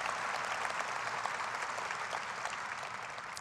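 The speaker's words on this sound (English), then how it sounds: "you can clap if you want" Sustained applause from a crowd at a philanthropy breakfast, a dense even wash of many hands clapping steadily at a moderate distance, with no speech over it.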